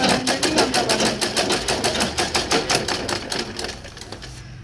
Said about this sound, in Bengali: এভাবে পুরো হ্যান্ডেলটা সেলাই করে নিতে হবে।